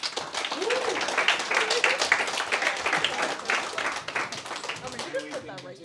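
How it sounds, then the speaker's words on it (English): An audience claps for a group that has just finished its capstone presentation at a program event in Iceland. The clapping is steady and moderately loud for about five seconds, with voices talking and cheering over it. "round of applause for them."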